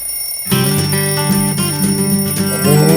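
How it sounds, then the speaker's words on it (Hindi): An alarm clock suddenly starts ringing at half a second, a loud, continuous metallic bell jangle that keeps going without letup. "अगर ये अलार्म बंद हो गया तो ये उठने से रहा।"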